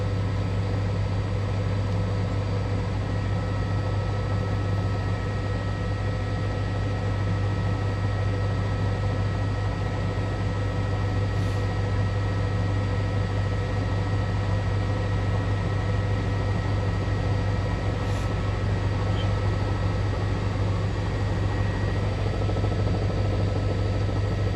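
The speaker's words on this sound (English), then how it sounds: "if you hear the helicopter flying over Edmond" A news helicopter hovers over a student rally at Edmond North High School in Oklahoma, a steady, unbroken engine and rotor drone with a constant low hum and no pause throughout.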